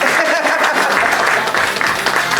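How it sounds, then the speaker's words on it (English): An audience claps and applauds steadily throughout, a dense wash of hand claps with a few voices faintly mixed in. "give a round of applause"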